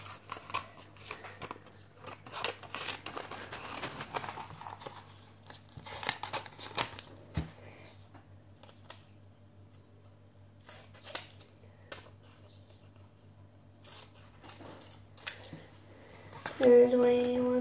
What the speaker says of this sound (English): Then I'm going to cut out one of these pictures